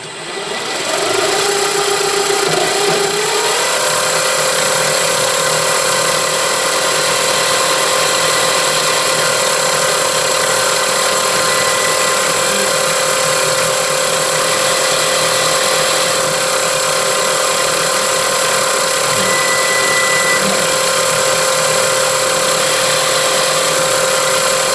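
A power drill bores into metal for parts of a Stuart Turner Number 8 mill engine, a loud steady whine that shifts pitch early on and then holds a constant drone throughout.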